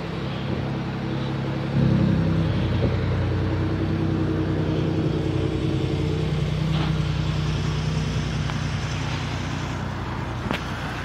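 A 2018 Ford Raptor pickup's engine runs after a remote start, a low steady idle rumble that swells slightly and then holds even, heard from nearby with no talk.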